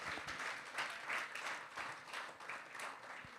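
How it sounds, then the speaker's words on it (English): An indoor hackathon event audience applauding, a dense, sustained wash of many hands clapping that rises and falls slightly throughout, heard at moderate distance. "you guys definitely deserve a very huge round of applause"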